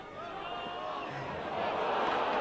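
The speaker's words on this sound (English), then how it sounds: "And a high tackle on Morley, the crowd going bananas" A rugby league crowd at the 1996 Halifax v Leeds Challenge Cup match roars after a high tackle. The sound is a steady, distant wash of stadium noise that swells near the end.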